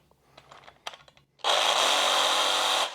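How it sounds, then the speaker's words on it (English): A Sawzall reciprocating saw cuts through a stuck bolt on a car, starting abruptly after some faint clanks and handling noises and then running loud and steady, close up, for about a second and a half before stopping. "You would think cutting it with a Sawzall would be easy"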